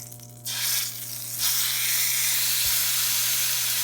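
Center-cut pork chops sizzle loudly on an oiled grill, a steady broadband hiss that swells as a second chop is laid down, close and continuous with no talking.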